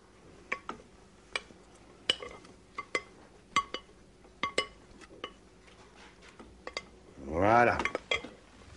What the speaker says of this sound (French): Alors, on incorpore les jaunes tout doucement. Voilà, et on remue, très bien.